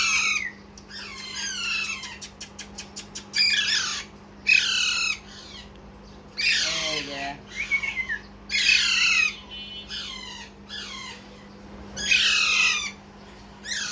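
Several Alexandrine parakeet chicks squawk and screech in repeated harsh bursts, loud and close, with a steady low hum underneath.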